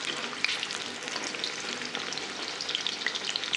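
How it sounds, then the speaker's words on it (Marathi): Eggplant pieces fry in hot oil, a steady, crackling sizzle with scattered pops and spits, fairly quiet and heard alone without any talking. "हे वांगे असे मऊ होईपर्यंतच तळायचे।"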